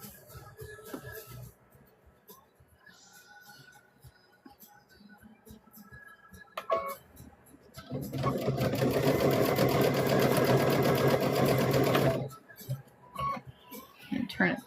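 A sewing machine stitches a thread catcher bag in a loud, steady burst of rapid mechanical whirring lasting a few seconds, with quieter handling noises before and after.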